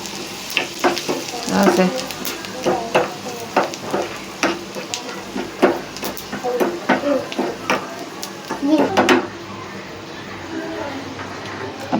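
Cumin seeds crackle and sizzle in hot oil for a tempering poured over moong dal makhni, with steady frying hiss and small pops throughout while a voice speaks briefly over it.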